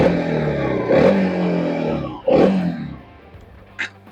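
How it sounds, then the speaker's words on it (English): A TVS Apache RTX 300 adventure motorcycle with twin exhaust pipes idles with a steady rumble, revved twice in sharp close bursts before settling back to a low idle, with a brief light click near the end. "Let me quickly give you a sound check of the engine."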